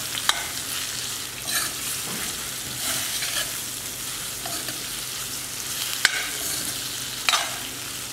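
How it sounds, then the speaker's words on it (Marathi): Marinated ivy gourd (tondli) stir-frying in oil in a pan: a soft continuous sizzle under repeated scraping and stirring strokes, with a few sharper clicks of the spoon against the vessel. "ही मॅरिनेट केलेली तोंडली जी आहे ती घालूया आणि छान आता परतून घेऊ।"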